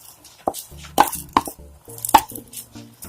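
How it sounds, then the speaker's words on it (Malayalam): Washed broken rice for Podi Ari upma drops by hand into a pot of boiling water in four or five distinct soft thuds and splashes, close, over a low steady cooking hum. "ഇനി ഇതിലേക്ക് അരി ചേർത്ത് കൊടുക്കുക."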